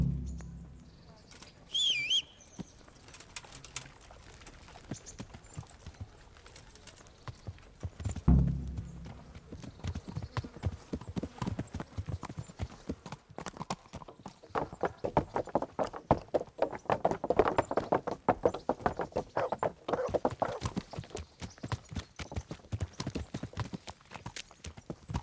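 Horse hooves clip-clopping in a medieval role-playing game, steady rhythmic steps building after a few isolated thumps and bird flaps, continuing at moderate loudness with no talk.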